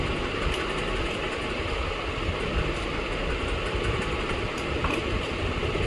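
A sewing machine runs steadily while stitching the pocket of Afghani-style pants, producing a continuous mechanical whir with a faint fast rhythm, moderately quiet and uninterrupted, with no voices.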